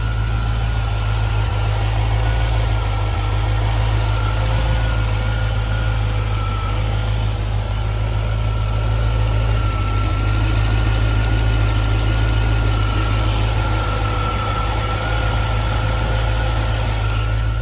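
A 1994 MG RV8 roadster with a Rover 3.9 liter V8 idles steadily and close up, a deep even low rumble with constant mechanical hum and no voices.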